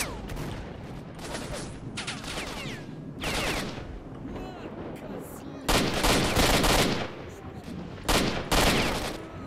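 Gunfire in the video game S.T.A.L.K.E.R.: Shadow of Chernobyl, with loud bursts of automatic shots in several clusters separated by short gaps, over a low steady background.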